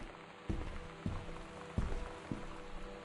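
Steady rain hisses in the Gone Home video game, with several dull low thumps of thunder rolling through at intervals, quiet overall and with no talking.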